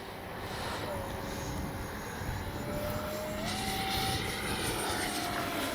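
A FLYFANS K-8 Red Falcon 6S RC jet flies overhead with a steady, rushing, whining drone that holds at a moderate distance. Its pitch climbs slightly partway through, over faint background noise.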